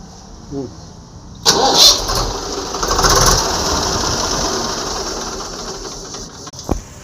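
A Swaraj 735 tractor engine cranks on its electric starter, catches and then runs with a loud, steady clatter nearby, before a brief thump near the end, with faint speech in the background.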